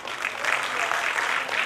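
An audience at a children's annual festival claps for young performers in a play, a brief burst of steady, fairly loud applause filling the room.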